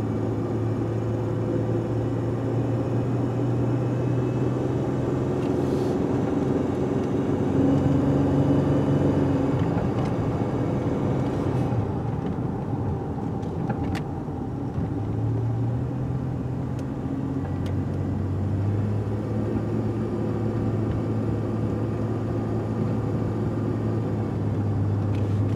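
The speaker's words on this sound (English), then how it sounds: "Try some various engine loads here." A car engine labors under heavy load while climbing a steep hill, a loud continuous drone whose pitch sags and shifts as the throttle changes. No one speaks.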